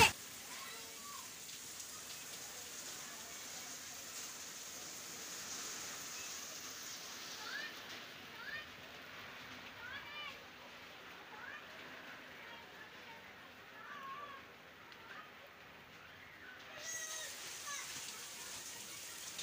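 Night rain falls steadily outside a home with windows on both sides, a soft continuous patter heard faintly, with distant faint chirps scattered through it.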